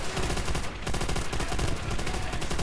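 Machine gun fire in Call of Duty: World at War on Xbox 360, rapid repeated gunshots in a fast regular rhythm, loud and close, with a short break before bursting again.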